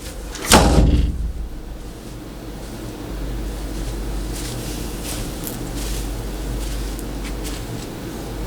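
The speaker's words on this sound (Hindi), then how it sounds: "हाँ तो रवि, ये दरवाजा क्यों बंद करा है?" An indoor door is shut hard with one loud, close slam and a boomy thud, followed by several seconds of steady room noise with no voices.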